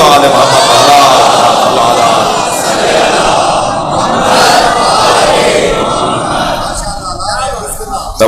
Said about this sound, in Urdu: صلوات پڑھیں ذرا محمد و آل محمد